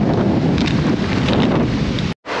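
Strong wind sweeps past by a river during a fishing lure test, buffeting the microphone in a loud, continuous roar that cuts out briefly near the end before returning.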